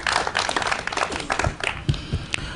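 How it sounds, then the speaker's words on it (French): An audience at a spoken-word poetry event breaks into dense applause, many hands clapping at once in a brief, busy burst that is close and fairly loud. "J'aimerais avoir un tonnerre d'applaudissements pour ces frères s'il vous plaît."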